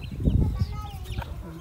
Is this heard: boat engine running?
no